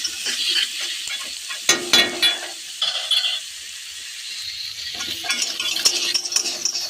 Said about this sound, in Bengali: আগে থেকে যে বেগুনগুলো করে কেটেছিলাম দিয়ে দিলাম, দিয়ে ভালো করে নেড়ে নিতে হবে।